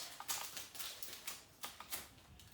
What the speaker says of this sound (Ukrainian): і клею скотч і його відрізаю